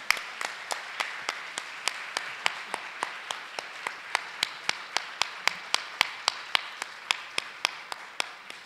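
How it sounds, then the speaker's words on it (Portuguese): Steady, evenly spaced claps ring out one after another at a seminar, a crisp rhythmic beat like an audience clapping in unison, close and clear with no talking over it. "a gente queria pedir uma salva de palmas para essas duas guerreiras"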